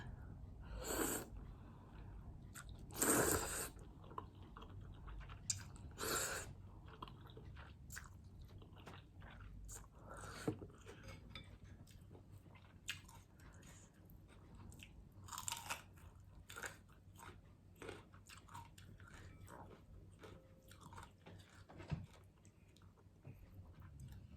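Someone eats a big bowl of hot, rich Japanese-style noodle soup, with close, quiet bites, crunches and chewing coming in irregular bursts and a few louder slurps or snorts over a low steady hum.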